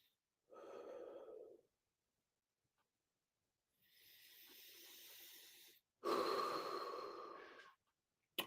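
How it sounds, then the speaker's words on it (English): Slow, deliberate breaths during a breathing exercise: a soft inhale, a long airy exhale, then a stronger breathy gust, each separated by silence, close and quiet with no talking. "Breathe normally."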